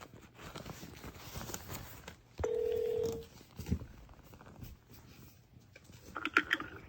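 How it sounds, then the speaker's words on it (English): Phone line tones during a call transfer: a single sustained tone of about a second stands out over faint background noise, with brief higher beeps near the end and no talking. "Let me transfer your call."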